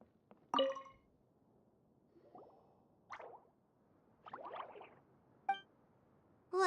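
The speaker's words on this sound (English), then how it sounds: "it sounds like a water droplet is on the second floor." Water droplets fall in the Genshin Impact game world, a few separate plops and drips spaced irregularly, clear and close against near silence.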